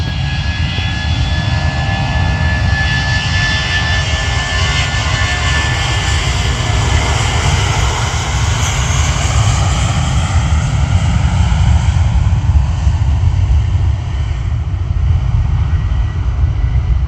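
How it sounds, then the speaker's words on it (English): A British Airways Airbus A320 jet departs Manchester Airport in heavy rain, a loud close engine roar holding steady across the whole stretch with a broad rumbling hiss and no voices. "British Airways Airbus A320 departing to Heathrow."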